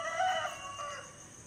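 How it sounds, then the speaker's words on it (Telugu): A rooster crows once at around 4:30–5 in the cool early morning, a drawn-out tonal call fading toward the end, fairly soft and distant. "కోడి కూతలు"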